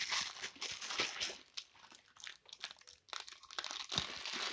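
A small plastic packet holding a rabbit waterer is crinkled and torn open by hand. The near, continuous rustling and crackling comes in bursts with brief pauses.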